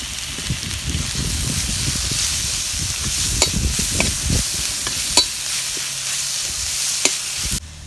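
Onions and crushed garlic sautéing in a pan for a sorrel leaf kadayal, a loud dense sizzle with rhythmic stirring scrapes that settles into a quieter hiss.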